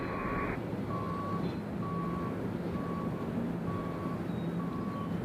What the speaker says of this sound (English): We got some dump truck action over here to the left of us. That's the beeping noise you might hear.